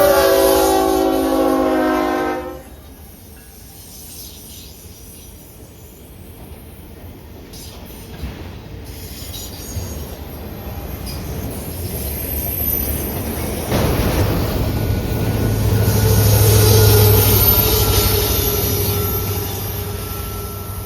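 A Norfolk Southern auto train passes close by with a loud horn blast at the start, then rumbling railcars and squealing wheels build steadily through the rest of the clip.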